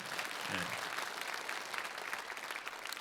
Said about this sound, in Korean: 박수하겠습니다. 세 분한테.